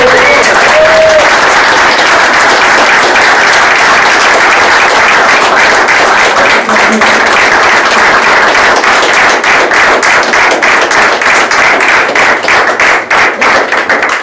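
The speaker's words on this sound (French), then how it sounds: "Vous pouvez les applaudir" Applause for newlyweds at a French wedding ceremony: a dense, steady roar of many hands clapping, loud and close throughout, with brief voices rising now and then beneath the clapping.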